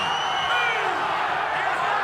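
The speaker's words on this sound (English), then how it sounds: "Listen to this crowd." Dense, steady roar of a rugby league stadium crowd at Kayo Stadium during an NRL Round 2 match between the Dolphins and Canberra Raiders, loud and continuous, with a commentator's voice riding over the top.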